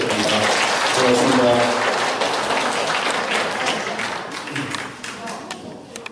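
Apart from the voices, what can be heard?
audience applause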